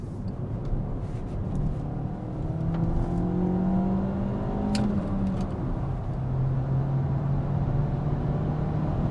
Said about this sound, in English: now we're going to try a little bit of wide open throttle acceleration